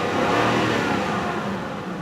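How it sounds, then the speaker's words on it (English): Engine of a high-mileage 1998 Lexus LS 400 held at high revs, around 4,000 rpm, a loud continuous smooth drone that eases slightly toward the end. "I'll give it a few revs."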